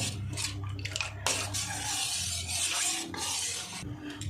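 Cornflour stirred into milk in a pot, a continuous close swishing and scraping of a spoon through liquid with a few brief knocks, no speech.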